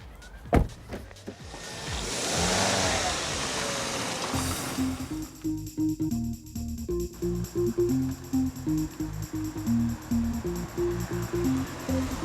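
A 2000 Toyota Yaris first gives a whooshing rush and then a steady engine drone with rhythmic pulsing beats, as if heard from inside the car as it drives, with no talking.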